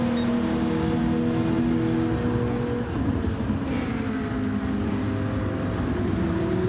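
Porsche 911 race cars at Suzuka in a Gran Turismo 7 online race, engines droning steadily and loudly throughout, with a shifting pitch as one car eases off and another draws alongside.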